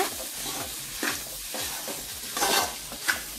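Chicken kothu parotta fries and is stirred over a high flame: a steady sizzle runs throughout, broken by repeated scraping strokes of a spatula against the pan at roughly half-second intervals, close and moderately loud with no talking.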